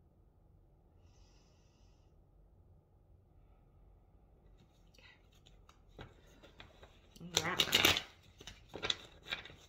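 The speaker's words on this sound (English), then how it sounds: "I will shuffle a few more times" Quiet at first, then crisp riffling and flicking of tarot cards being shuffled, growing louder in bursts, with a brief spoken word.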